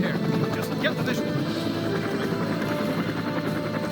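A helicopter in the war game Men of Valor thrums steadily and loudly throughout, a continuous rotor drone with talking over it.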